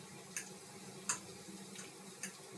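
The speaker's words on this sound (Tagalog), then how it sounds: "Haluin natin yung egg" Egg is stirred in a pan with a spatula, making faint, regular scraping taps about every half second over a low sizzle of frying.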